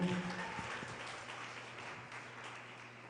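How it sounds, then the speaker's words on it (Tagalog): A church congregation claps loudly during a worship service, a steady wash of applause that holds throughout and fades slightly toward the end. "pumalakpak ng malakas sa ating mahal na Panginoon"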